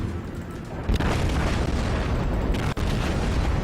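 Battleship main guns firing in World of Warships, in an Arkansas beta ship during an open-beta match: deep continuous rumbling booms and blasts rolling together, loud and dense, with a sharp burst near the start.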